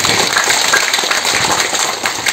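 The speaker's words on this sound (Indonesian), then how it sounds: "Kita beri tepuk tangan untuk ini ya" Applause from an audience at a house key handover event, a loud dense continuous wash of many hands clapping that holds steady throughout, with no talk over it.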